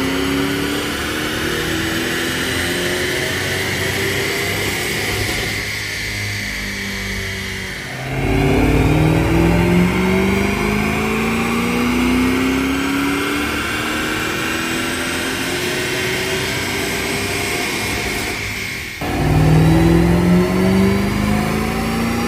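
A supercharged 5.4-liter 2008 Mustang Shelby GT500 V8 revs up and falls back repeatedly in long rising sweeps, loud and close, with no talking.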